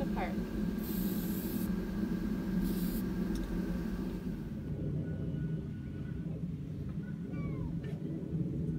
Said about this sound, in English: First time spray painting, it looks like.